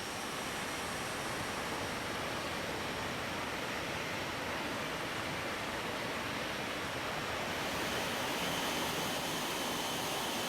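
Fighter jet engines spool up in Microsoft Flight Simulator, a steady, loud broadband roar that holds constant and swells slightly toward the end, with no talk.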